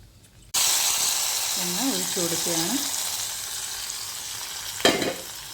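Hot tempering of dried red chillies in oil poured into mango pulissery, a sudden loud sizzle that starts abruptly then fades and hisses, with a brief voice partway through and a sharp clatter near the end.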